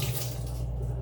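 Tap water runs steadily into a sink while potatoes are washed, a close continuous gushing hiss for about a second with no talk.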